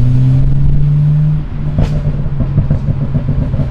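A tuned BMW 335i accelerates hard nearby, its engine rumbling loud and steady with a sharp exhaust pop partway through and scattered crackles after.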